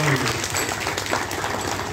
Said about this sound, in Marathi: त्याच्यासाठी एक फार जोरदार टाळ्या संतांच्यासाठी व्हायला पाहिजे